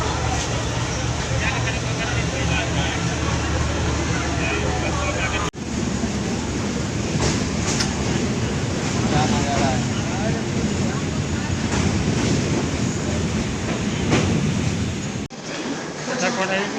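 A passenger train travels from Delhi toward Pathankot, its steady rumble and rattling wheels filling the whole stretch with a brief dip in level midway, while people talk faintly in the carriage.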